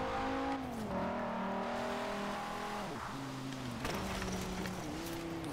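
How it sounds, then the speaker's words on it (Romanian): Stock car engine revving in a driving video game, a loud continuous drone with rising and falling pitch as the throttle shifts, with brief dips between gear changes and no talking. "Sună bine motorul. Pentru stock."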